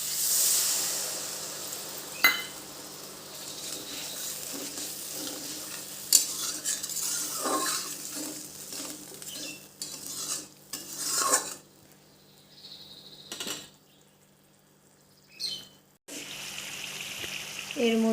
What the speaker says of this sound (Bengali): অল্প অল্প করে জল দিব আর একটু কষাই নেব।